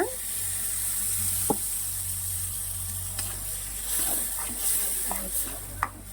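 A ground paste of ginger, garlic, tomato and green chili with a little fennel sizzles steadily in a pan, with scattered clicks and scrapes of stirring and no talking.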